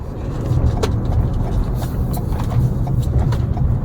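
A car driving at night up Skyline Drive on Signal Hill in winter, a steady low road and engine rumble with tyre noise, with occasional faint clicks and knocks inside the cabin.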